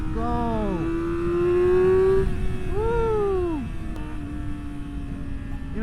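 A Yamaha R6 sport motorcycle engine revs up and down several times as the throttle opens, with rising and falling whines over steady wind rush on a canyon ride.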